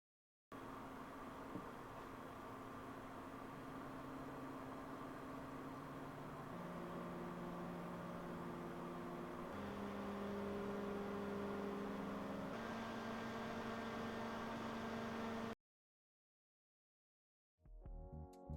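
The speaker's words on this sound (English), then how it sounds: "Let's do a quick sound check with the LCD version just for your reference here." Lian Li wireless SL Uni fans, LCD version, run with a steady soft whir that steps up in pitch and strength several times as the speed rises, recorded quietly with no talking, then cut off into silence near the end.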